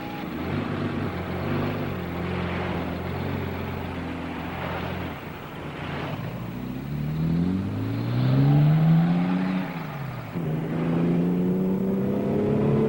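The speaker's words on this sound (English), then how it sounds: "Man, that's some fancy driving." Car being driven fast, its engine droning steadily and then revving higher and falling away, loud and continuous throughout with no voices.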